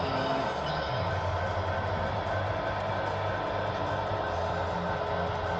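A CSX model locomotive runs on a small loft layout, giving a steady close electric whir and rumble of the motor and wheels on track that continues without a break.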